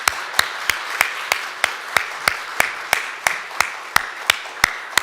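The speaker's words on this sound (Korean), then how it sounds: "우리 다 같이 우리같이 박수를 쳐야 돼요" Applause in a church service, heard as sharp, evenly spaced claps in a slow steady rhythm, loud and close, with a faint background hiss.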